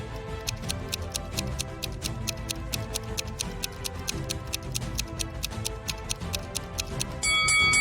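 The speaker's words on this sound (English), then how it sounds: "the timer goes on ticking" A timer ticks steadily in a quick, regular rhythm, the sharp clicks continuing through the whole stretch over a low background bed, with a bright chime-like tone rising at the very end.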